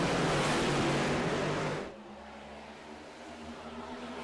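Race car engines roar loudly as cars accelerate after a restart, a dense, steady motor rush that drops abruptly to a quieter engine drone; no talk.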